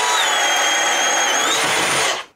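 A DeWalt Flexvolt stud and joist drill bores through wood with an Irwin bit, giving a loud, steady high-pitched whine for about two seconds before it abruptly stops.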